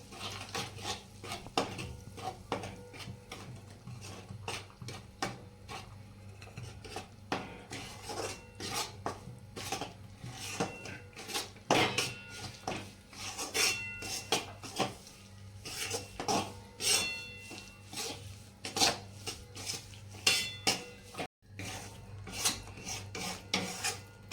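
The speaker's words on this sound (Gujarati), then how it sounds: "ધીમા તાપે આપણે લોટ સરસ શેકી લેવાનો" Wheat flour roasting in ghee in a pan, stirred steadily with a spoon, giving repeated close scraping and rasping strokes with occasional metallic clinks against the pan; no talking.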